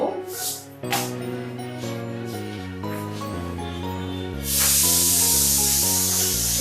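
Dried red chili and whole black mustard seeds hit hot oil with a sudden loud, steady sizzle that fills the last couple of seconds, layered over background music that plays throughout.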